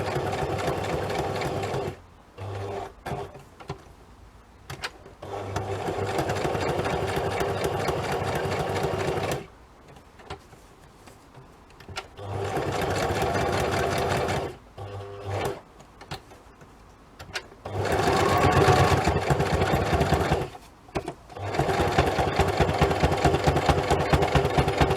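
A sewing machine runs straight stitches through thick layers of fabric in repeated bursts of rapid mechanical chatter, separated by short pauses, loud and close with no speech.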